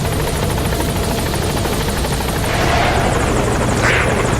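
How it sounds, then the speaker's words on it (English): A support helicopter in Metal Gear Solid V: The Phantom Pain arrives at the landing zone, its loud rotor chop and turbine whine droning steadily and close, with no talk over it. "Support helicopter has arrived."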